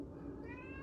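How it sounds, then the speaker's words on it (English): A cat gives a single short, faint meow indoors over a low background hum. "Miss Kitty Pooh wants to get up here"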